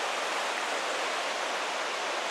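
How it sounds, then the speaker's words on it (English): Steady broadband roar of a waterfall in Johnston Canyon, Banff National Park, continuous and fairly close with no voices or other sounds over it. "Back at the waterfall area back there."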